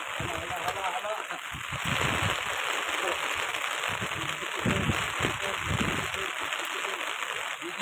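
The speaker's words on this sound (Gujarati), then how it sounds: "એકદમ મસ્ત વરસાદ ચાલુ થઈ ગયો છે" Rain falls steadily in Rajula, Gujarat, a dense continuous patter and hiss on surfaces, with people talking faintly underneath.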